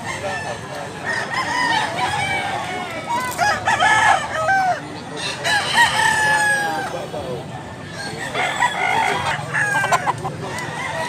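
Several Boston Roundhead gamefowl roosters crow repeatedly at a cockfighting breeder's farm in Cebu, with long, strained calls overlapping one another amid background clucking and some faint talk.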